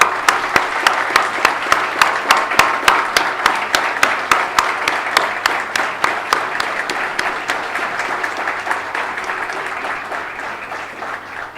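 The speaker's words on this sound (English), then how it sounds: "We would like to welcome her with a round of applause" An audience at a student institute's Foundation Day gives rhythmic, unified applause to welcome Dr. Kiran Bedi, sharp synchronized claps in a steady beat that gradually soften toward the end.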